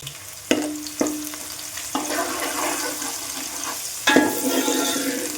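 Ingredients for gongura chicken curry frying in a pan, a steady broadband sizzle with several sharp utensil knocks and scrapes against the pan as they are stirred, close and fairly loud.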